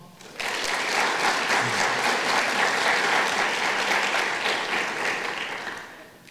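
An audience at a high school local scholarship night breaks into loud, sustained applause for a recipient, the clapping starting abruptly and holding steady for several seconds before tapering off.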